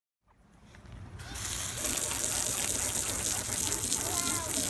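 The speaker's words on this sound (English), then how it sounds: "I got to hose it off" Water from a hose gushes steadily against a boat hull being prepped for sanding and Bondo work. The spray is close and continuous, starting softly and then swelling into a strong splashing rush.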